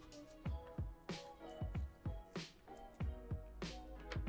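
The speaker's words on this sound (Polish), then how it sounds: "musimy to po prostu te krążki rozdzielić" Thick-cut raw onion rings are pulled apart by hand, giving soft, wet squishing and crackling snaps in an irregular series of close, quiet pops.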